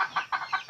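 Chickens cluck close by in quick repeated bursts, about five short calls in under a second.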